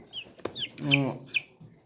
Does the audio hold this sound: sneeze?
no